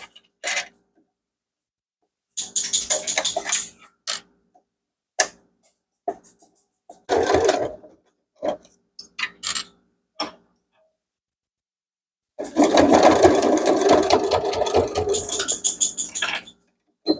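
Sewing machine stitching straight across the seam of a small fabric keychain, heard as bursts of rapid mechanical whirring separated by pauses, with a longer steady run near the end; no talking.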